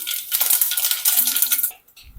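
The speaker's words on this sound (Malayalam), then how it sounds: "കടുക് ഇട്ട് കൊടുക്കാം," Mustard seeds hit hot coconut oil in a pan, bursting into a loud, dense crackling spatter that lasts under two seconds and then stops abruptly.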